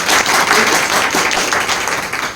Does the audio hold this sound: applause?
yes